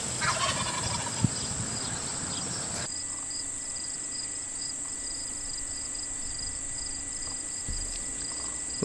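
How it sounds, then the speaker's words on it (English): A wild turkey gobbler calling in a backyard, a loud rapid gobbling burst at the start over a steady chorus of crickets and insects, which continues alone afterward. "The gobblers get their name from their famous call"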